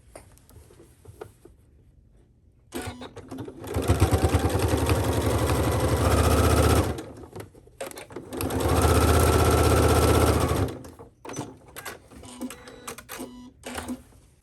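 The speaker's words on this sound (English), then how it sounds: "I'm actually going to do an edge stitch" A sewing machine runs edge stitching on a wrap skirt in two loud, steady bursts of whirring motor and rapid needle clatter, separated by a pause, with light handling and fabric noises before and after.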